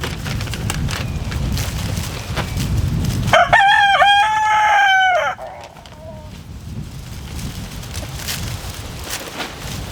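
A rooster crows once loudly and close by, a drawn-out cock-a-doodle-doo lasting about two seconds, with steady low outdoor rumble and faint chicken sounds around it in a backyard flock kept for eggs.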